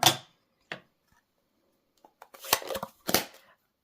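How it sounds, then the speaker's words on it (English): A rubber stamp pressed onto a paper tag for a greeting on a handmade card: a few sharp taps and a short cluster of firm presses and paper handling, close and quiet between hits, with no talk. "I'm going to stamp Hello Friend on the tag"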